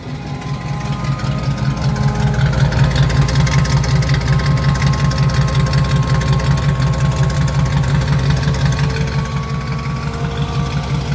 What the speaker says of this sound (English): So we'll go ahead and fire her off now that we got the exhaust all done on it.